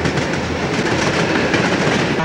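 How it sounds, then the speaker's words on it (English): Two Erie Lackawanna SD-45 diesel locomotives haul a train around the Tuxedo Curve in Tuxedo, New York, with a loud, steady rumble and the rolling clatter of cars passing close by. "On the X-Erie, two SD-45s and a train rounding the Tuxedo Curve."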